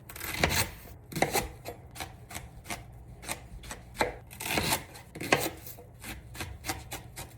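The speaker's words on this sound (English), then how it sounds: "I'm going to do a little slice down the middle, but not all the way" A knife slices leeks on a cutting board, making a series of crisp, irregular chopping knocks, close and distinct, with no talking.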